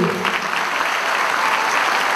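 Audience at a book presentation in Rosario applauding steadily, a dense even wash of many hands clapping at close range with no talk over it.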